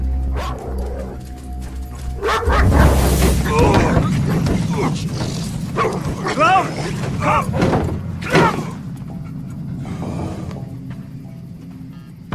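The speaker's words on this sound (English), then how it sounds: "Call off your fucking dog" A dog barks in sharp, repeated bursts in a tense film scene. Mechanical noise and voices sit under the barking, and a low rumble opens the scene.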